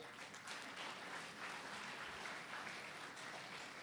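An audience at a graduation ceremony applauds, a sustained wash of many hands clapping at moderate volume throughout.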